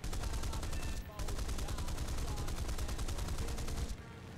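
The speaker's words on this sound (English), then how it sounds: "I love the sound these cannon make" Rapid, continuous bursts of heavy aircraft cannon fire in the video game War Thunder, loud and close, with a brief pause near the start and the barrage cutting off just before the end.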